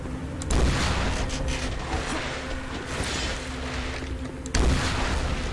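Rocket launcher blasts fired at zombies in a shooter game, two heavy booming explosions about four seconds apart with rumbling, mechanical noise sustained between them.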